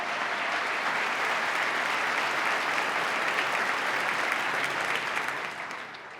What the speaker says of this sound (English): Let's give the new county executive a round of applause.